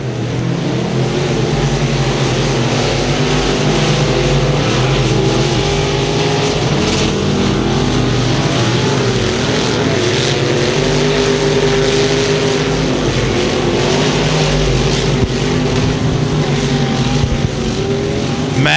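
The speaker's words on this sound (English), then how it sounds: "Matt Stahlbaumer picks up heat race win number 2 here tonight in your BSB IMCA Modifieds" IMCA Modified race cars roar around the Thunder Hill Speedway track during a heat race, with a loud, steady wall of engine noise throughout and no pauses.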